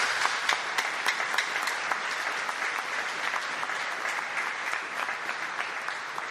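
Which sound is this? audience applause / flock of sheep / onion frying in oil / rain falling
audience applause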